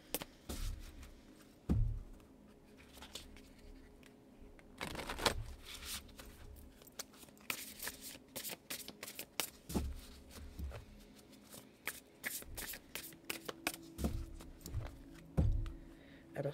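Tarot and oracle cards being shuffled by hand at close range: soft riffling and flicking with sharp taps and slaps of the deck at irregular intervals, quiet overall, no talking.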